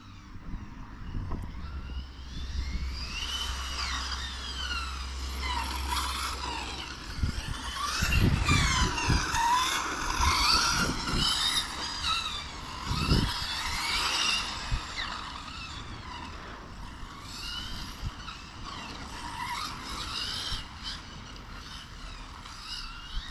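A Hobao Extreme VTE 2 6S electric RC car races around an on-road track, its motor whining in rising and falling sweeps as it passes, fairly faint and distant, with a few sharper bursts mid-run.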